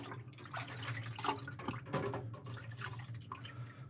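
A brass megger part being washed in warm soapy water at a sink, with steady running water and dripping and splashing sounds at close range, continuous throughout and without speech.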